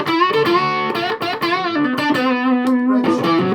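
Electric guitar with stacked P90 pickups on a G&L ASAT Junior II, played in the middle pickup position with effects and distortion, a driven chord phrase with sustained notes and picked accents, loud and close, no talking.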